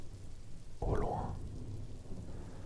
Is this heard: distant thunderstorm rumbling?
yes